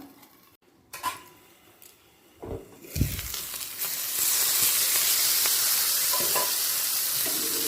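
Potatoes frying in a small amount of oil, opening with a few clattering pan and utensil knocks before a loud, continuous sizzle swells up and holds steady to the end.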